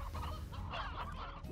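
Brief, close clucking and honking bird calls from chickens in the video game Slime Rancher, over a low hum.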